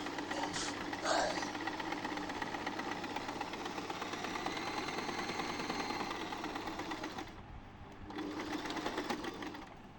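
An electronic Butterfly sewing machine runs steadily, stitching a large stitch pattern with a continuous mechanical whir. It stops briefly near the end, then starts up again.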